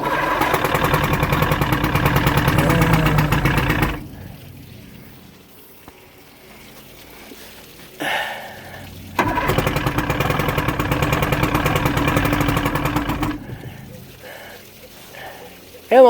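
A Johnson 115 HP two-stroke outboard boat engine turns over in two loud, close bursts of about four seconds each, sputtering without settling, separated by quieter stretches with faint background sound.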